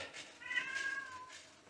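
A single cat meows once close by, a short, clear, mid-pitched call lasting about a second in an otherwise quiet room.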